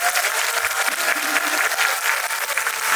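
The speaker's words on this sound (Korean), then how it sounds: "큰 박수 부탁드립니다" Film festival audience at a Busan screening Q&A clapping together, a dense, sustained round of applause filling the room at steady loudness, with no voices on top.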